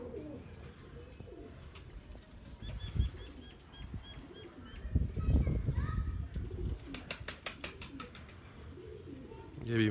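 Pigeons on a rooftop loft give soft, low cooing calls while wings flap in bursts nearby, with faint chirps and people talking in the background.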